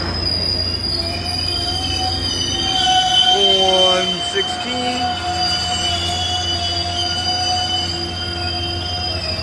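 Caltrain passenger train hauled by an F40PH locomotive during a heatwave, its wheels squealing in long, loud, high-pitched tones that bend and shift over a steady rumble, with a brief spoken word.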